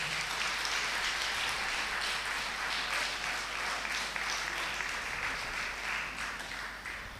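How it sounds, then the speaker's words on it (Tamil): Sustained audience applause fills a church sermon hall, a dense steady wash of many hands clapping at fairly even loudness, tapering slightly toward the end with no speech over it. "உங்கள் சத்தமாக ஒரு தடவை கை தட்டிடுங்க."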